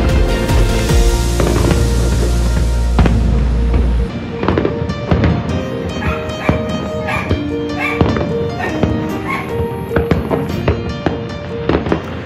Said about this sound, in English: they had a fireworks going just like that